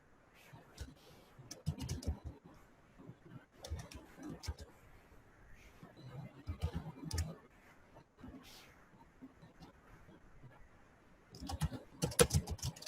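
A computer mouse and keyboard are used while setting up a new YouTube channel: quiet clusters of close clicks and taps come in irregular bursts, with soft bird coos faintly in the background.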